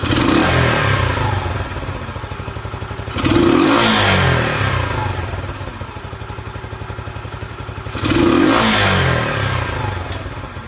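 A Sinnis SC125 motorcycle engine idles with a steady putter and is revved on the throttle twice, each blip rising sharply and then falling back to idle, close and clear.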